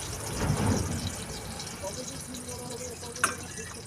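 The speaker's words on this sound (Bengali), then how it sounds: "একটা ছাঁকনি নিয়ে লেবুর রসটা ছেঁকে দিচ্ছি" Lemon juice is strained through a sieve, a soft, continuous liquid trickle with faint dripping, ending in a small click near the close.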